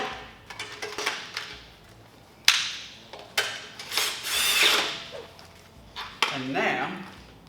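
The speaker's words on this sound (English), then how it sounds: "we're going to tighten up all of these motor bolts" Tools tightening the motor bolts on an OnFloor OF9S-L treadmill, a series of ratcheting and metallic clanks with sharp knocks and scraping, close and irregular with some handling noise.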